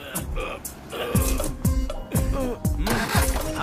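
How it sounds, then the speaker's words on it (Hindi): A car engine catching and starting after being push-started, with bursts of revving and sputtering, loud and near, with voices shouting over it. "गाड़ी स्टार्ट हो गई।"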